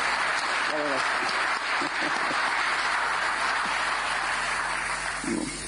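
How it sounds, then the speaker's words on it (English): An audience at an EU-African Union summit in Angola applauds, a full, sustained round of clapping that stays steady and loud from start to finish. "I think that Margaret Gustavo, she deserves another round of applause."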